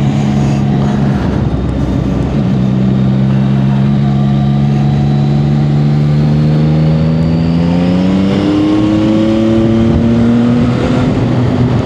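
A CF-Moto 675 SR-R motorcycle engine revs steadily upward, its pitch climbing over several seconds, loud and close, with no voices.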